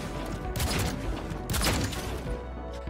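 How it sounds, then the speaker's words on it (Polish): Two sharp, booming shots from a modded RT-46 Burya revolver in Cyberpunk 2077 ring out about a second apart, each followed by a rumbling, reverberant tail over a low background. "Pierwszy z tych modów podmienia dźwięk wystrzału rewolwera RT-46 Buria"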